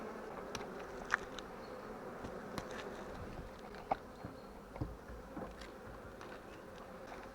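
Honeybees hum in a continuous faint buzz around an open beehive full of sealed honeycomb, with a few soft clicks and knocks of handling and no voices.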